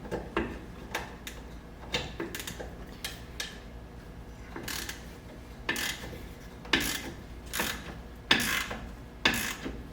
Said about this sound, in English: I wanted to break all of the nuts loose that are my brake lines going into my master cylinder